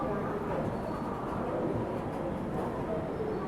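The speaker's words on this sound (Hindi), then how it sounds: "फाइनली अपनी ट्रेन पहुंची है नागपुर रेलवे स्टेशन।" A train pulling into Nagpur railway station around midnight, with a steady low rumble of rolling wagons filling the short stretch, close and constant.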